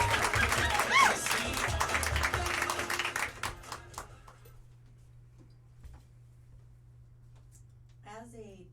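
An audience at a student stand-up comedy showcase gives a comedian coming to the stage about four seconds of close, busy clapping, which fades to near silence before a single voice starts speaking.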